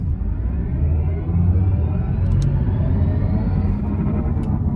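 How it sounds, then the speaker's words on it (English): The speakers of a 2025 Mini Countryman Electric play an artificial drive sound under acceleration, heard inside the cabin as a loud, continuous low hum and rumble. "the speakers are actually playing an even louder sound, but it's a different one that I got when I was in the core mode"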